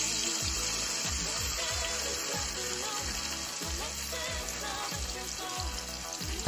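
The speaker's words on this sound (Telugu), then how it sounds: "ఒక్కొక్క ముక్కను తీసుకొని మనం ఆయిల్లో ఫ్రై చేసుకుందాం." Marinated fish pieces fry in oil with a steady, close sizzling hiss, alongside a rhythmic low thumping pattern that sounds like background music.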